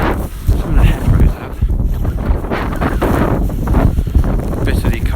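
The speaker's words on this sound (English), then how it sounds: "Bitterly cold, the wind's blowing as well, it's blowing a hoolie." Strong, bitterly cold wind gusting outdoors on a snowy road the morning after a Beast From The East blizzard, a steady loud rush buffeting the microphone throughout.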